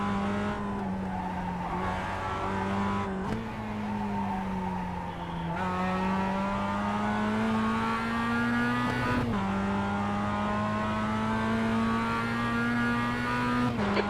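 A Mazda race car in the iRacing sim laps the short Summit Point Jefferson Circuit, its engine droning loud and close with rising pitch through each gear and brief shift dips, tyre squeal over the top, no voices.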